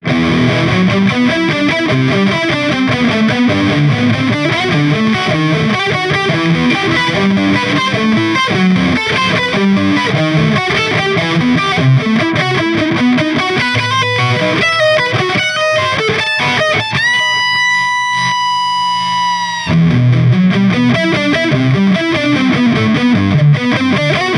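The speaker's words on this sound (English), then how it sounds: "I love the rock and roll, so let's turn up the distortion." PRS SE electric guitar played through heavy distortion, loud sustained rock riffs and chords filling the whole stretch, with a brief ringing pause before playing resumes; no talking.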